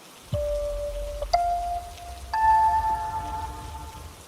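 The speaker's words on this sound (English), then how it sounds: "The rain came down in sheets, drumming against the windshield as Officer Mark Higgins drove" Heavy rain drums in a steady wash against a car windshield, heard alone beneath sustained tonal notes.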